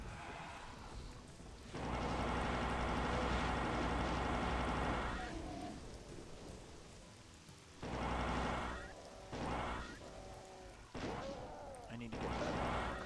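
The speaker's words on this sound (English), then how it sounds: "We got some rain going on. It's actually acid rain, and it does damage to you" Acid rain pouring in a video game, a steady dense hiss that swells and drops in loud stretches, with game sound effects and a voice talking over parts of it.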